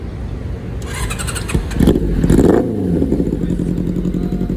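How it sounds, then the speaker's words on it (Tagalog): Super 4 motorcycle fitted with a new exhaust pipe revving up loudly nearby, its engine rising in bursts and settling to a rough idle. "Soundcheck muna sa Super 4, bagong pipe eh."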